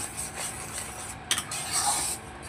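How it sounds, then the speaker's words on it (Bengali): Spices with salt and turmeric are stir-fried in a pan, giving a steady close sizzle with scraping spoon strokes against the metal and a sharper clink midway. "সমস্ত মশলাটাকে ভালো করে কষিয়ে নেব।"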